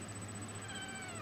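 Pet cat, a kitty, giving soft, faint meows over a steady electrical hum in a dim indoor room, short and close.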